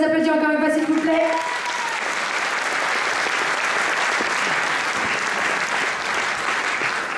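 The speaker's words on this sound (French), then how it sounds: "Allez, on les applaudit encore une fois, s'il vous plaît." An audience applauds contestants at the Miss Côte d'Or pageant; after a brief musical tone in the first second, dense, loud, sustained clapping fills the hall and continues evenly to the end.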